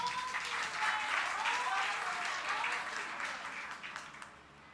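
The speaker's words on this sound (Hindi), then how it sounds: "एक बार जोरदार तालियां।" A crowd applauds loudly and steadily, a dense wash of clapping that slowly fades toward the end.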